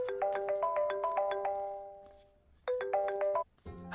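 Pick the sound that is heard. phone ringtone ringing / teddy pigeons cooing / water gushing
phone ringtone ringing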